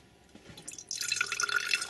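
A separated oil and water mixture is poured from a container, giving a soft trickle that swells into a steady splashing stream, quiet and close.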